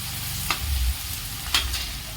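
Garlic and ginger paste sizzling in hot oil right after mustard seeds, a steady crackling fry with two quick stirring scrapes, no talking.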